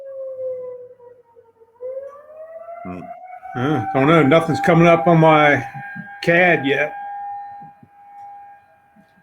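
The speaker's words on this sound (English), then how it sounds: "It's a siren test." A long, steady wailing civil defense siren test tone holds throughout while people talk nearby over it.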